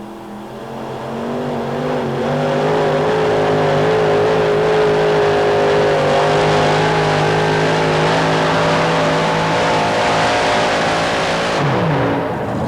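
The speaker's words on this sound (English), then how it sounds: "Now you'll listen for the throttle for the engine RPMs to go up" Heavily modified tractor engine at a 1991 tractor pull in Anaheim roars loudly and steadily at high RPM for the whole stretch, its pitch wavering slightly as it strains, with a brief downward sweep near the end.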